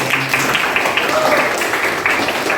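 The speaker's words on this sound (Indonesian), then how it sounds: "Beri tepuk tangan untuk kita semuanya pada kesempatan ini." A class of students applauds in a steady, moderately loud patter of many hands clapping at once, sustained throughout without pause.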